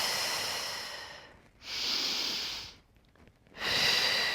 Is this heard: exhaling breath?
yes